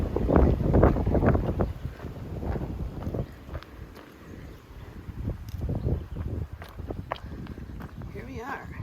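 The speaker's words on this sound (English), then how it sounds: "the wind picked up." Wind gusting across the microphone on a spring section hike of the Appalachian Trail, heard as low rumbling buffets under footsteps, with a person talking at points.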